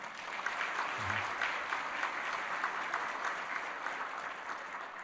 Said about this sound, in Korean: 우리 수고하신 모든 분들께 박수를 한번 드리고